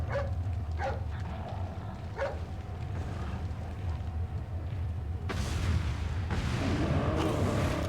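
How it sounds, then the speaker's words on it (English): Dog barking in Resident Evil 4, heard as a few sharp barks early on, set against a steady low game rumble and ambient noise, with a burst of louder broadband noise toward the end. "Hey, it's that dog!"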